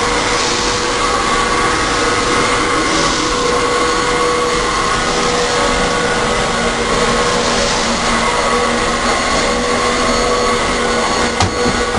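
A vacuum cleaner with its roller brush spinning sucks cereal off a carpet, a steady loud whirring drone with a faint whine that holds without a break, a brief rattle of debris near the end.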